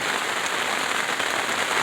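Light rain falls steadily on outdoor surfaces, making an even, close hiss of fine drops pattering without pause and with no voices.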